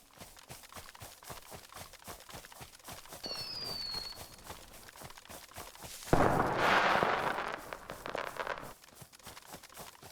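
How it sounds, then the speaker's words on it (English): Fireworks bursting in the DayZ video game as King of the Hill is completed: a loud crackling burst breaks out midway over steady footstep-like thuds and lingers a few seconds. "Those fireworks are the sound of completing the King of the Hill."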